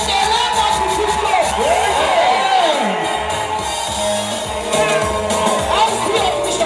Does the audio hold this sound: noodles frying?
no